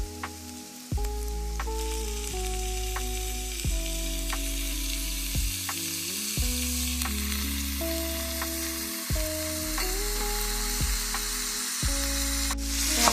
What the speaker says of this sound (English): we're going to go ahead and add in our ground beef